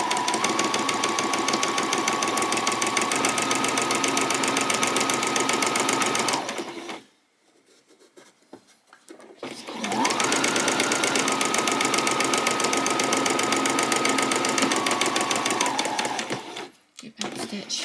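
Sewing machine stitching the top hem of a doll's peasant top, a rapid steady mechanical chatter in two long runs separated by a pause with handling noises, then a brief final burst.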